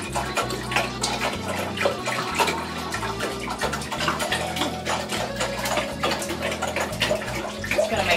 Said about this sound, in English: So we're going to dump the cider.